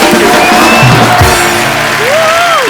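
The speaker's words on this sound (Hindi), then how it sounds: "जोरदार तालियां ऋतिक रोशन, आशुतोष गोवारीकर एंड पूजा के लिए" A studio audience cheers and whoops loudly on a comedy talk show set, a dense crowd roar with shouted yells rising over it throughout.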